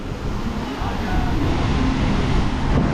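A waterfall roars as a steady, full rush of broadband water noise, loud and unbroken, with a faint voice underneath.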